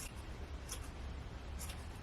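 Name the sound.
scissors cutting wool to trim a pom-pom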